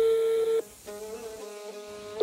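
Telephone tone on a call to a friend: a steady, fairly loud ringing tone sounds for about half a second, breaks off briefly, then continues for over a second before a final short burst. No one speaks.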